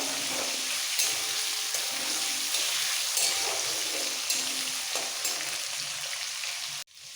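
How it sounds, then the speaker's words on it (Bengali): Eggplant and pumpkin pieces frying in oil in a pan, a steady close sizzle with occasional stirring clicks and bursts of crackle, ending with a brief handling knock. "বাকি সবজিগুলো দেবো বেগুন কুমড়ো"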